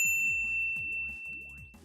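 A bright notification bell ding rings out several times in a quick repeating pattern, each chime clear and ringing with a gliding tonal sweep, loud and alone with no talking.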